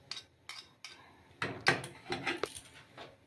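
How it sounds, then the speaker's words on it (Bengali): Rice being stirred continuously in a pot: a series of quiet metallic scrapes and clinks of a spoon against the pot, sparse at first, then coming in quicker bursts. "এবার নাড়াতে হবে, অনেক বারবার করে নাড়াতে হবে, অনবরত নাড়তে হবে, নাহলে চালটা নিচে ধরে যাবে।"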